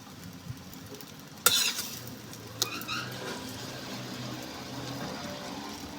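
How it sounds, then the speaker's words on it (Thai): Eggs fry in an electric pan, a quiet crackling sizzle broken by two sharp clattering hits of a utensil against the pan, with no talk. "ทอดไข่ทอดไข่อาหารง่ายๆ"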